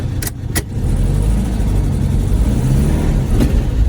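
A VW Beetle rolls slowly around a yard while its brakes are tested, a low, steady engine rumble, with a few sharp clicks near the start.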